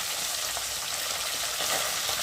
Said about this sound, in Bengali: আর একটু ভালো করে ভেজে নেবো আরেকটু